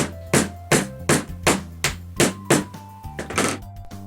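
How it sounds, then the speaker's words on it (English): Eight or nine sharp hammer taps in a steady rhythm, close up, each a bright metallic knock with a faint ringing tail, as a small hammer taps a wheel onto a balloon car's axle. "Again, you can use the hammer."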